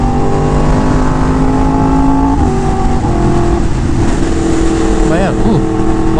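A white Porsche drives past on a street, its engine note rising and falling close by over steady traffic noise, with a voice talking over it.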